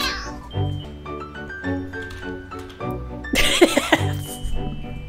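Cartoonish cat meows from the Crazy Cat Lady Simulator video game, several short tonal calls in a row followed by a louder burst of scrambling noise.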